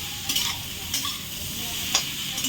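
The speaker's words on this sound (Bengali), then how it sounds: "এখন চিংড়ি মাছটা এর সাথে ভেজে নেবো" Prawns frying together with tilapia in an oiled pan, a steady close sizzle with occasional stirring scrapes and clinks of a utensil throughout.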